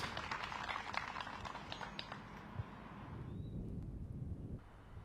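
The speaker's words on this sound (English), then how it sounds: "You can hear those gusts of wind from the course" Steady roar of wind buffeting an outdoor microphone on a disc golf course, with a few gusts swelling and fading, fairly loud and continuous with no talking.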